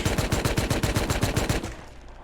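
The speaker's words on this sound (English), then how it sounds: "we're just going to kind of stand at a wall and just hip fire" A Thompson submachine gun in the game Rust fires from the hip at a wall, a quick regular burst of about a dozen close, loud shots before trailing off into echo.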